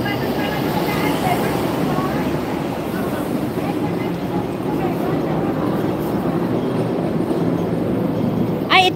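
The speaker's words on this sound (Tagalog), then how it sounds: "Ito pala yung train dito, mabagal na itawag po namin diyan is tram." A slow tram rolls past toward Chai Wan in Hong Kong, a steady low rumble of wheels and motor heard close and continuous, with a brief sharp squeal at the very end and a voice talking faintly over it.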